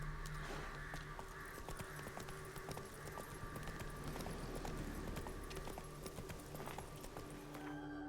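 Roach, the horse in The Witcher video game, walking at a steady clip-clop pace, hoof beats regular and fairly clear over low game ambience and faint background music.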